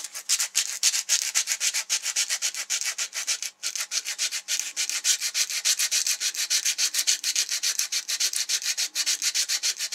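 Wood being sanded by hand with rapid back-and-forth strokes, a close, even rhythmic rasping that continues steadily throughout with no voices.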